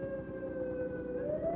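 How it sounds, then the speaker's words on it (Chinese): A police car siren wails steadily and loudly nearby, its rising-and-falling tone continuous throughout the short stretch with no talking. "喂喂喂，好像有警车来了，快走！"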